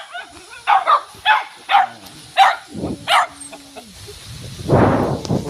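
A dog barks repeatedly in short sharp bursts, close by, with a brief whine and a louder huff near the end.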